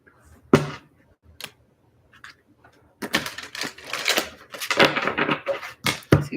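Tarot cards being shuffled during a live reading: a few sharp isolated snaps, then a run of dense, papery riffling bursts close to the microphone, with no talk.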